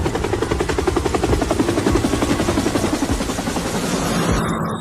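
Sound effect of a helicopter: rapid, loud rotor chopping pulses close by, steady throughout before easing slightly at the end.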